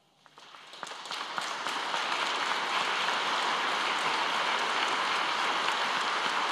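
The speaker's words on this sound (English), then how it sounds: "I invite you to thank them for sharing him with us with a great round of applause." Mourners at a funeral break into a round of applause, scattered claps swelling within a second or two into dense, sustained clapping that holds steady to the end.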